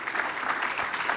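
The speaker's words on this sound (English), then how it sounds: "I think another round of applause." A brief stretch of audience applause at an Inova Honors awards event, a soft, even patter of many clapping hands, fairly quiet and distant.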